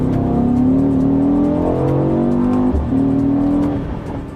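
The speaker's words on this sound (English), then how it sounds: "there is a noticeable surge at lower RPMs as the boost pressure builds and the car accelerates." A Mercedes-AMG E63 pulls hard under acceleration, its engine note climbing steadily in pitch as boost builds, loud and close, with a brief dip around a gear change before rising again and fading slightly at the end.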